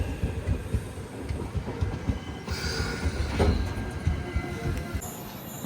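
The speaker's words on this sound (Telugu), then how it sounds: "గుంటూరు సికింద్రాబాద్ గోల్కొండ ఎక్స్ప్రెస్ ఇది" The Guntur–Secunderabad Golconda Express rolls past on an adjacent track, a loud, continuous rumble of wheels and carriages with rhythmic clatter and a brief high squeal, heard from close by.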